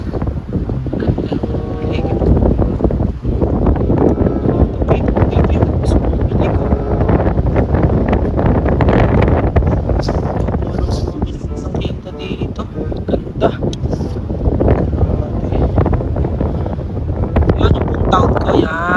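Strong wind at Smoky Lake, Alberta, after a night of snow and rain, buffets the microphone in a constant loud roar and gusts for the whole stretch. Nobody speaks.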